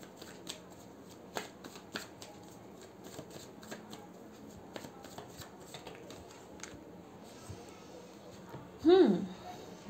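Tarot cards are shuffled and drawn in a Hindi tarot reading, a steady run of soft papery riffles and flicks throughout, fairly quiet, ending with a brief louder rustle near the end.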